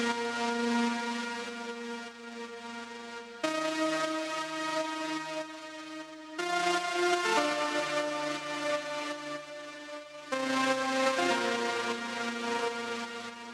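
Lead synth part from an electronic track produced in Ableton Live, playing solo in four long sustained chords that change every few seconds, steady and fairly loud.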